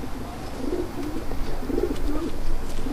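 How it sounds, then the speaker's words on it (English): Pigeons coo inside a bird coop in the video game L.A. Noire, low repeated warbling calls that rise and fall against a steady hum of background ambience. "Bird coop. Pigeon coop."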